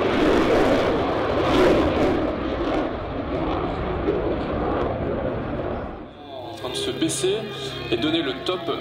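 A Rafale Marine fighter jet engine roars loudly with broadband rushing noise for about six seconds at an air show in Biscarrosse, then cuts to quieter mechanical tones with a voice speaking over it.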